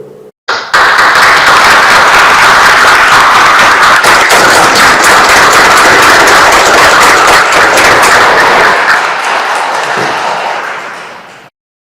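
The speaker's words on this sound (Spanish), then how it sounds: "Aplaudamos vuestro logro." Audience at a swearing-in ceremony for new lawyers at the Supreme Court applauding, a loud, dense, sustained round of clapping that starts abruptly, holds steady and tapers off at the end.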